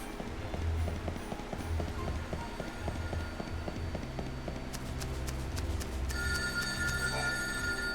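A payphone ringing in the video game Final Fantasy XIII Lightning Returns, repeated electronic ring bursts over a rhythmic game background of footsteps and music, moderately loud.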